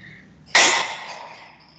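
A sharp, loud sneeze bursts out in a classroom, one abrupt explosive blast that fades quickly into room noise.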